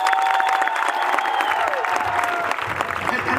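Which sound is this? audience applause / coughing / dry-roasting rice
audience applause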